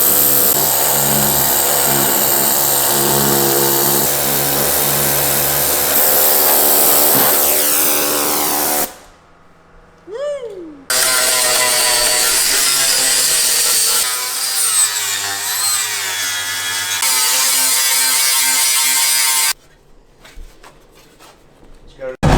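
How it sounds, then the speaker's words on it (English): A grinder cuts into the metal body of a Mk4 Ford Escort van, a loud, steady broadband whine running for several seconds, breaking off briefly, then resuming for another long pass before stopping. "The grinder is required."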